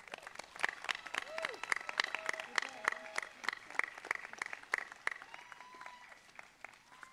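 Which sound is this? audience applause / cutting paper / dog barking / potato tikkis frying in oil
audience applause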